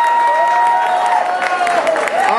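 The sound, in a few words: audience applause for Roland Martin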